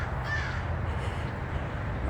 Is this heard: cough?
no